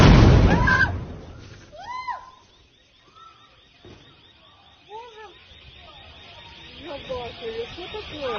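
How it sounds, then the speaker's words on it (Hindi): One loud, deep blast at the start in Lviv, Ukraine, where several large explosions struck, then fading into quieter scattered chirps and faint background noise. "यूक्रेन के लवीव के इलाके में कई सारे बड़े बड़े धमाके हुए हैं"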